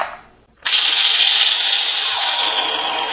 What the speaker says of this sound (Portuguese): Vou moer o meu café na hora.